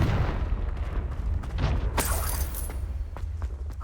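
A Confringo spell bursts in the game Hogwarts Legacy with a low rumbling boom and a sharp crackling blast, layered over dull mechanical thuds and a steady low background.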